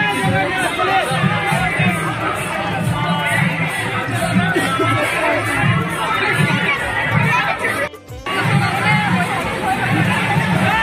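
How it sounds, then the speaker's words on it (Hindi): A large, dense crowd chattering at a night religious procession, loud continuous babble of many voices all around, with a brief dip near the end before the hubbub resumes. "देखो गाइस कितना ज्यादा भीड़ है।"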